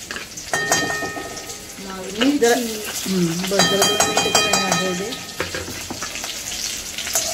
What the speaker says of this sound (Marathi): आणि हे थोडंसं फ्राय करून घ्यायचंय आपल्याला व्यवस्थित, मस्त चायनीज सारखं.